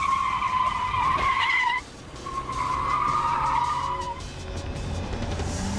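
A car skids and spins with long, loud tire squeals after being hit on the rear bumper during defensive driving training for armored cars; two squeal bursts are separated by a brief drop, with engine noise beneath.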